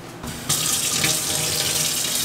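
Hot water runs from a kitchen tap into a sink to rinse freshly blanched potatoes. After a brief quieter start the stream opens up to a loud, steady hiss of pouring water that stays close and continuous. No one speaks.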